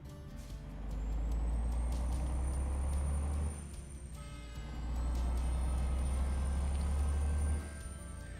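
A Kenworth 680 NG truck in American Truck Simulator brakes, with air-brake hissing over a heavy, droning engine rumble that swells in two long surges and drops back between them; no one speaks.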